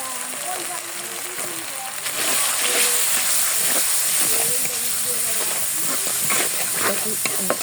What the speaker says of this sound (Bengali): এক মিনিটের মতো মশলা কষিয়ে নেব